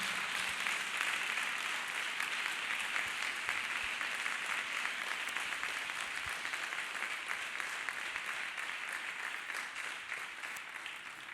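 A church congregation claps their hands together in a dense, steady round of applause that carries on without a break for about eleven seconds, loud and even throughout.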